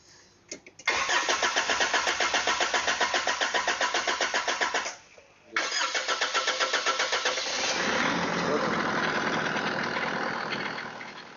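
A Nissan Patrol turbo engine cranks with a rapid rhythmic chugging in a garage, pauses briefly, cranks again and catches, settling into a steady idle close by.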